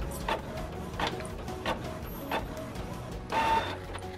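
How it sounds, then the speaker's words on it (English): An inkjet-style printer prints a template onto freezer paper, giving a steady mechanical whir broken by repeated carriage bursts and clicks at a close, moderate level, with no talking. "Hit print."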